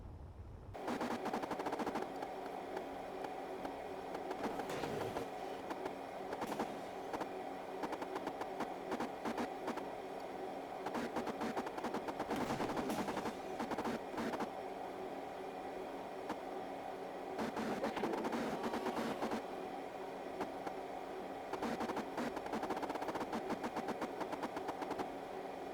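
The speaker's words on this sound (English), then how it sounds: "we're going to help it out by turning back on our grinding facility" In Space Engineers, a grinding facility tears down a ship with a steady mechanical drone and rapid, rattling clatter that pulses in uneven bursts, continuous and alone for about twenty-five seconds.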